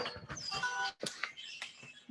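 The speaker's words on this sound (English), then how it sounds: "the bird sounds that accompany it" Recorded birdsong plays faintly as part of a gallery exhibition soundscape, with quiet chirps and short trills alongside soft music in a room.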